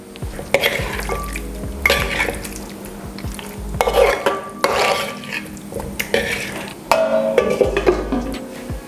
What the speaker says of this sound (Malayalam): നന്നായിട്ട് മിക്സ് ആവുന്നവരെ ഒന്ന് ഇളക്കുക.